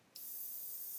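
A Gaahleri Mobius 0.2 airbrush sprays paint, starting suddenly after a brief pause as a close, loud, steady hiss of air that holds to the end.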